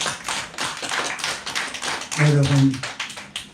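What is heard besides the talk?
congregation clapping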